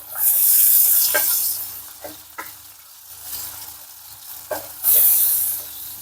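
A spiced mixture with turmeric, pepper and cumin stirred in a sizzling pan for a Moroccan tagine: loud frying hiss that swells and fades with the stirring, with a few scrapes of the spoon and no talk.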